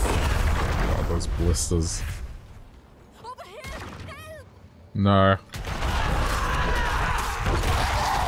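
Explosions burst in the video game Diablo IV, rumbling booms and crashes mixed with game effects and chimes, with a loud blast near the middle, while a person speaks briefly over the action.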